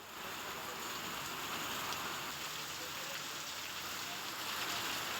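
Steady heavy monsoon rain pouring down in Mumbai, a dense continuous hiss with no pauses, fairly close and even throughout.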